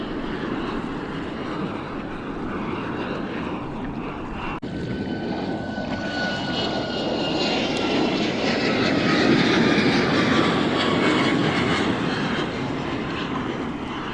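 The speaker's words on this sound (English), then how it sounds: "airplanes coming and going" A fixed-wing airplane passes overhead near LaGuardia Airport in New York City, heard from a kayak on the water as a broad, steady engine roar that slowly swells louder and then holds, with no voices.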